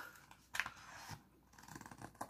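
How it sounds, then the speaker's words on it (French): Scissors snipping through a diamond-painting canvas, a few quiet crisp cuts at close range with small clicks of the blades. "ils coupent super bien ces ciseaux"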